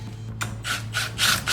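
Slim socket wrench tightening the steering wheel nut on a 1965 Ford Mustang, heard as a few quick ratcheting bursts that grow louder, close up over a low steady hum, with no talking.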